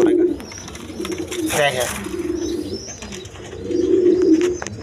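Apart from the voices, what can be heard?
pigeons cooing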